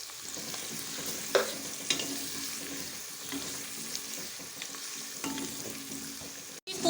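Beef keema sizzles and fries in a pan as ginger garlic paste and red chili powder go in, a steady loud crackle with occasional sharp stirring scrapes and clinks, no talking.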